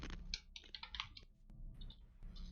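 Rapid clicking of keys in irregular bursts, close and fairly quiet, like someone typing on a keyboard with brief pauses.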